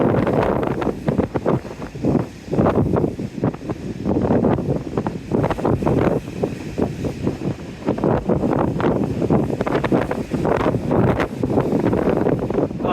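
Strong wind buffets the microphone on a seafront by splashy water, a loud, continuous roaring rumble with gusty surges throughout and no speech.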